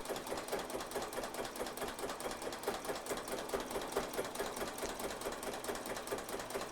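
A BAi Mirror embroidery machine stitches yarn along a stitch path in a fast, steady, evenly pulsing chatter that runs without pause, close and alone with no talk.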